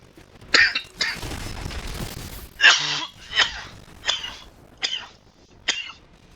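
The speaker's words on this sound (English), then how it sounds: "That was a bad cough" Several short coughs from one person, spaced out and fairly close, following a longer rough burst at the start, during a break in talk about a card game.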